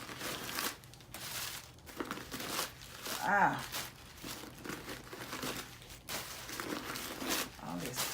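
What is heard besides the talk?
crumpling packing paper while unboxing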